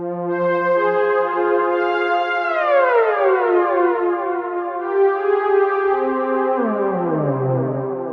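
A sustained synth pad with rich harmonics glides in wide pitch bends, sweeping down and back up, smooth and loud, with no talking.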